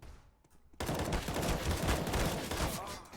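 Rapid AK rifle fire in a Counter-Strike match starts abruptly after a quiet moment, then continues as dense overlapping gunshots and bursts of automatic fire, loud and close throughout.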